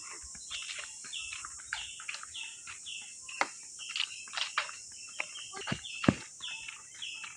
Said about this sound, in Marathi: किती पक्षी ओरडत आहेत बघ